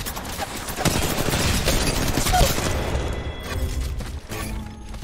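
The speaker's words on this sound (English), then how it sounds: "That guy was shooting me before he could see me." Rapid bursts of automatic gunfire crackle and boom in an Apex Legends Mobile match, loud and dense at first, then thinning into scattered shots and mechanical clatter toward the end.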